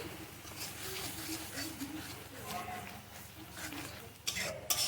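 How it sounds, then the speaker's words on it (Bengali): Masala spice paste being stirred and sautéed in a pan for a prawn and potato dum curry, with a steady scraping, gentle sizzle and a few clinks of utensil against metal, close up and continuous. "মশলাটাকে ভালো করে কষিয়ে নেবো"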